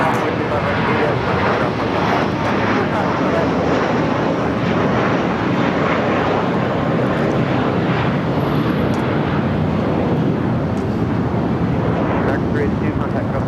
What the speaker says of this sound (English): Singapore, the 777 now pushing back.